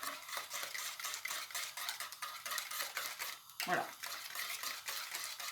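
Eggs and sugar being gently whisked in a bowl for pastry, a soft steady scraping and clinking of utensil against bowl running throughout, with a brief spoken word partway through.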